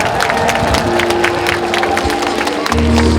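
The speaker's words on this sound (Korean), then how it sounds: "큰 박수로 환영 부탁드리겠습니다" An audience at the opening ceremony of the East Asia City of Culture in Andong applauds and cheers to welcome guests, a dense continuous crowd clapping with a sustained tone underneath.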